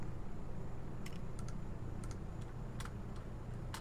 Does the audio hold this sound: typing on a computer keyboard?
yes